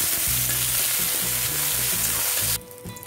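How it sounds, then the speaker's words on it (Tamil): Vallarai keerai (pennywort) greens sautéed in a pan, a steady loud sizzle with rhythmic scraping stirs that stops abruptly near the end, leaving a faint hiss. "இப்போது நம்ம வாஷ் பண்ணி வச்ச வல்லாரை கீரையை சேர்த்துக்கலாம். சேர்த்து இதை நல்லா வதக்கிக்கலாம்."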